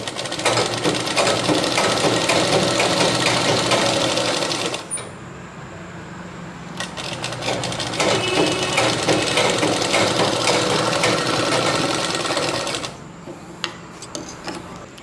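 An electric sewing machine stitches pleats on a goddess idol's dress in steady, loud bursts of rapid needle clatter, pausing briefly between runs of sewing.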